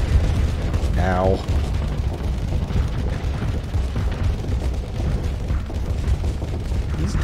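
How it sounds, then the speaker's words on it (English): Devastator cannons fire in the space combat game Starsector, a loud rumbling barrage of booms and blasts rolling continuously, with a brief rising whine early on and a voice talking. "These Devastator cannons, I can't tell."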